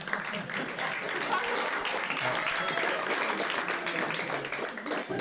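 A comedy show audience in Marseille breaks into dense, sustained applause, loud and continuous for several seconds, with faint voices mixed in.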